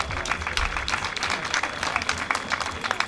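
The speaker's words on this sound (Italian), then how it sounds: "applauso" An audience at the 2016 Festival della Canzone Mariana, a Marian song festival, claps as a gospel choir from Brindisi is introduced, giving a short, busy patter of hands with a faint murmur underneath.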